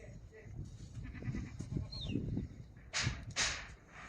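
Dairy goats at the Mashtaga livestock market let out a couple of short, sharp bleats near the end amid low crowd murmur and shuffling.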